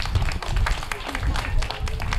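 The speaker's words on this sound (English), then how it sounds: "give her a big round of applause, please" Audience applause at a football tournament opening ceremony, a dense wash of many hands clapping steadily throughout, fairly close and loud, with no voices over it.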